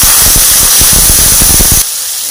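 Ground spice paste hits a hot pan of onions and tomatoes with a loud steady hiss and sputter, then quiets to a softer sizzle.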